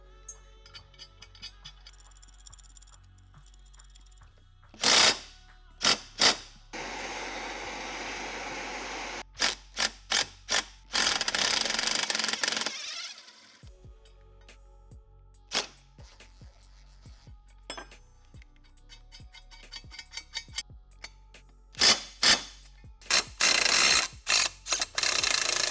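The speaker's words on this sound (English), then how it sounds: "I'll just be locking two nuts against each other on the stud, and that will enable me to thread the stud out of the case." Cylinder studs are threaded out of a bare dirt bike engine case using two nuts locked together, with bursts of quick ratcheting clicks and metallic handling sounds separated by quiet gaps, close and without speech.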